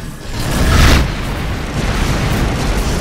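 Incoming missiles exploding in a space combat video game, a loud rumbling boom swelling and fading within the first second, followed by a dense sustained roar of blasts and noise.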